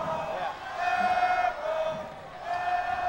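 A high school boys' basketball crowd in a gym jeers and whoops after a missed shot, a swelling, mid-distance roar of many voices that rises and falls in waves.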